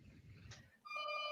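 A door alarm rings, a bright, steady electronic tone that starts abruptly after a brief low rustle and holds at a constant level.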